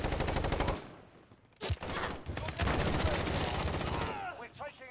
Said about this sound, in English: That was me firing at him